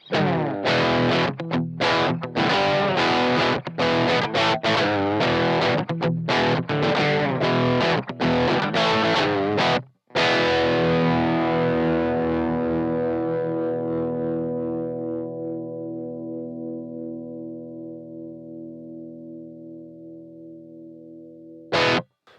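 High-gain electric guitar through a Bluguitar Amp1 Mercury Edition: a burst of loud, distorted strummed chords, a brief gap, then one sustained chord ringing out with rich overtones and slowly decaying, ending with a short final stab.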